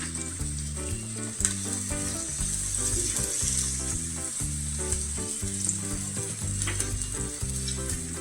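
Onions frying in hot oil before shrimp goes in, a steady close sizzle with crackling pops and occasional stirring scrapes throughout.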